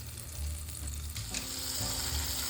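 Amul butter melts in a hot pan while pasta sauce is being made, giving a steady close sizzle and crackle that holds throughout without any talking.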